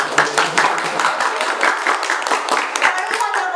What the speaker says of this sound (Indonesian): Ngawari, tepuk tangan ya.